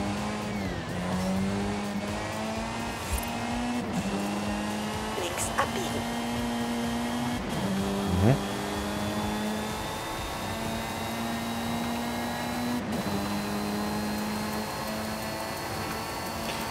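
Car engine droning steadily through an open-world drive in the racing game Forza Horizon 5, with rising and falling revs and occasional tire squeals, while someone talks over it and a navigation voice gives directions.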